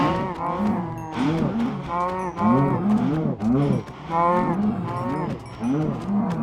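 Cows in the game Minecraft moo over and over, loud and close, with several calls overlapping in a steady rhythm and no talking.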